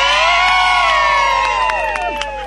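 A large crowd gathered in Nan, Thailand, cheers and shouts loudly together, with high whoops and sustained calls filling a close, continuous roar.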